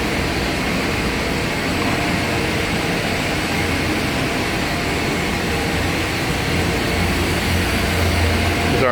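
Steady, loud machinery drone fills a basement boiler room housing 500 horsepower boilers, a broadband roar with a low hum that holds constant throughout, with no clear talk over it.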